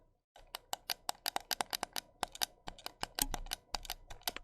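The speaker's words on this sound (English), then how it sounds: "Go grab your own PS4 controller. But just like listen to the fucking click of that." PS4 controller buttons clicking rapidly in a dense series of crisp, close plastic clicks, a steady burst of presses with no talk.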